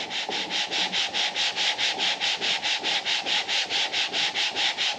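Close, steady rasp of sandpaper scrubbing a Subaru Forester's metal engine head, fast even strokes repeating throughout without any voices.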